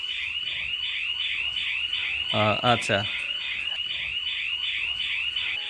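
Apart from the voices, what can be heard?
GSM home security alarm sounding when the main door opens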